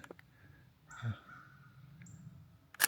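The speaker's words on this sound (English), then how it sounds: "Whole group of crows." Crows call in a winter woodland preserve, a few separate caws ringing out at moderate distance against quiet background, with a sharper sound at the end.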